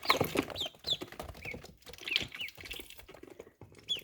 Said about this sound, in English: He's got a raspier quack than she does.